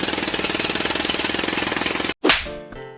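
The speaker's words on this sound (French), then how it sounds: "j'ai une machine à grains et quand elle tourne, cette putain de machine à grains, elle fait ce genre de bruit" A bean-to-cup coffee machine grinds beans with a loud, rapid, pulsing mechanical rattle for about two seconds, then stops abruptly, followed by a brief clunk and a short whir as the mechanism settles.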